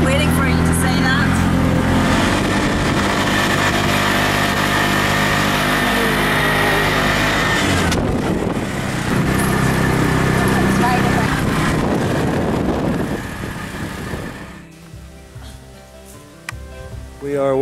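A tuk-tuk engine drones loudly and continuously during a ride in Sri Lanka, its mid-pitched hum shifting as the vehicle moves and fading near the end.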